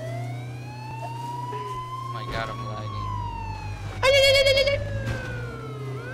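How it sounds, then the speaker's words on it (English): Police car sirens in the video game H1Z1 wail in long rising and falling tones over a steady engine drone, with a sharp louder siren burst near the end while a player talks. "Turn the sirens on."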